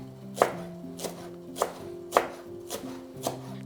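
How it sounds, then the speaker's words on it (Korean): Knife slicing green onion and chili peppers on a cutting board, six distinct diagonal cuts at a steady, unhurried pace, close and clear with no talking. "그냥 이렇게 전골형으로 어슷어슷 썰어서 들어갑니다"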